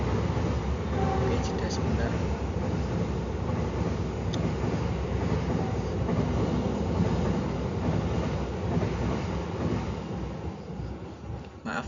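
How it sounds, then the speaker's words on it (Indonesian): A train rolls past on railway tracks close to a house, a steady loud rumble filling the whole stretch without a break and easing off slightly toward the end; no one talks over it. "dikarenakan rumah saya dekat dengan rel kereta ya, jadi saya jeda tadi"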